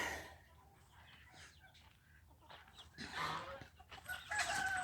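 Chickens on a free-range farm clucking softly at a distance, with scattered calls over quiet outdoor background.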